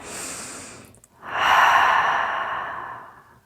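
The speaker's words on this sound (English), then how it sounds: "Take a deep breath." One slow, deep breath close to the ear: a soft inhale, a brief pause, then a longer, louder exhale that gradually fades, with no talking.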